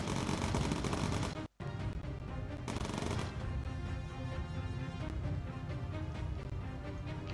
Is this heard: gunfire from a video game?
yes